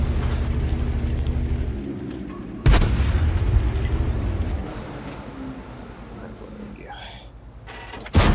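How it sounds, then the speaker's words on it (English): A loud, close artillery blast in a tank video game, with one heavy boom near the start followed by a second impact about midway and another sharp hit at the very end over a rumbling engine bed, with someone talking. "That was artillery."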